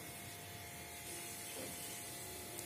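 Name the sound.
fennel seeds and spices sizzling in hot oil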